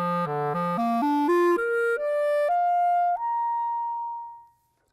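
A wooden clarinet, typically of grenadilla, plays a clear ascending run of notes, starting low and stepping up in pitch before ending on a long held tone that fades out.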